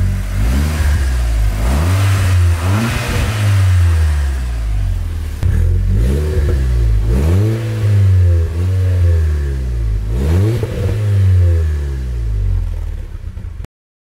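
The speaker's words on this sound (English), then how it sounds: "Give it a few revs." An Audi S3 engine revs up several times in quick bursts, each rising whine falling back to idle between pulls, close and loud.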